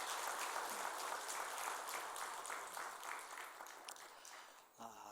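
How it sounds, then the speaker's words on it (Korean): Church congregation applauding during a Korean worship service in celebration of a member's daughter's wedding, a faint, distant wash of clapping that thins out near the end. "축하하고 격려하는 마음으로 박수 한번 드리도록 하겠습니다"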